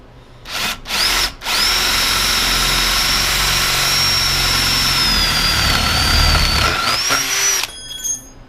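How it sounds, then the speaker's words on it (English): Two short bursts of a power drill, then a long steady whine as it bores a hole into wood, pitch dipping slightly before it stops and settles. "I know where I have to drill the hole"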